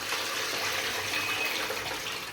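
Water pours out in a home kitchen in a steady, close rush of splashing liquid, with nobody speaking.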